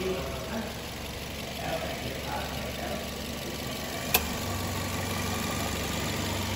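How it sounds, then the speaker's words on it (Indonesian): A 2015 Toyota Yaris G manual with a 1500 cc VVTi engine idles steadily under the open hood, a low, even hum throughout, with one brief sharp click partway through. "Ini mesinnya. Ini sudah VVTi ya, 1500 cc."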